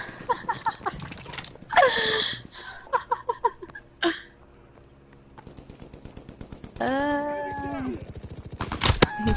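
Player's gun in Call of Duty WWII fires in rapid bursts of sharp reports, loud and close, interleaved with people talking and laughing over the game audio.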